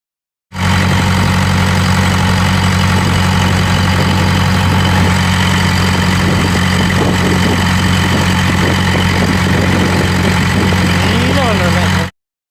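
A ship's engine idles at anchor offshore near Kalpeni island, a steady low drone with a constant deep hum and vibration, loud and close, with no voices.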